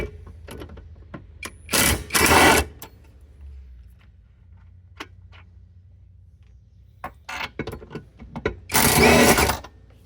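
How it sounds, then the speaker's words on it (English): A 17 mm deep socket on a ratchet or driver works loose the port-side jet pump bolts of a Sea-Doo Challenger 230, giving two loud whirring bursts amid scattered clicks and clanks of tools handled close by. "I'm now taking out the port side. Again, that's a 17 millimeter. I use a deep socket"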